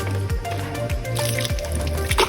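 Water splashing and gurgling steadily from a borewell pipe, with rhythmic dripping plops over a continuous flowing rush, close by.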